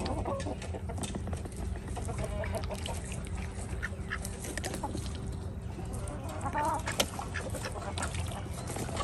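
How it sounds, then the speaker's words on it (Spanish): Ducks and chickens in a farmyard, steady quacking and clucking from several birds close by, overlapping in a continuous busy chorus with a rooster among them. "Y la Shakira es una patita que siempre anda con él."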